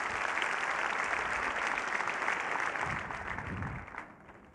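Sustained audience applause for a singer at the 1998 Kral Music Awards, a dense, steady clapping that stays loud for several seconds and then thins out and fades at the end.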